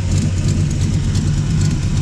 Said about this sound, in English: Just got a little bit of an exhaust leak at this collector here.